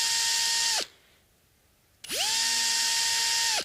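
An electric drill bores a hole into the soft wood of an Epiphone Les Paul Special II guitar. The loud, close whine runs briefly, stops for about a second, then spins up again and holds.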